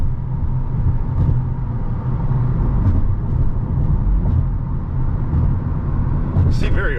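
A 2025 Hyundai Elantra N with a DCT gearbox being driven, its engine and road noise a steady loud low rumble from inside the cabin, with someone talking over it.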